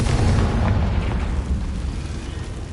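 A Confringo blasting curse from Hogwarts Legacy goes off as a loud, deep explosive boom with a rumbling low tail that slowly fades over a few seconds.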